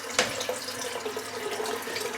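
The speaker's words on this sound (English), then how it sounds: "I'm just going to pop the Karve in the warm water" A Karve shaving brush dipped into warm water at a sink, with steady running tap water and small splashes, close and alone for a couple of seconds.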